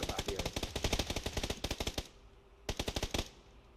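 Rapid automatic gunfire in a PUBG console match, loud bursts of evenly spaced shots for about two seconds, a short pause, then another brief burst.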